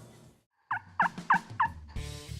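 A wild turkey gobbles in a quick series of four rattling calls, clear and fairly close, followed by a burst of noise at the end.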